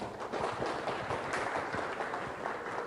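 Continuous audience applause at a Thai Buddhist lecture gathering, a dense, even patter of many hands, moderately loud and sustained throughout.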